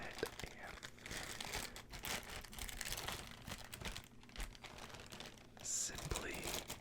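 A plastic bag of thrifted toy figures crinkles and rustles continuously as it is handled and opened close up, with soft whispering over it.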